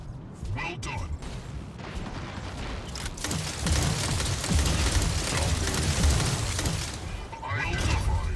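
Mech weapon gunfire from the Mech Arena video game, fired by a Paragon mech, rattling as a dense, continuous stream of shots under game effects and a voice talking throughout.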